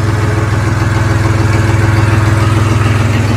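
A Siromer 304 compact tractor engine runs at a steady idle, loud and close, with an even, rapid pulsing throb and no voices.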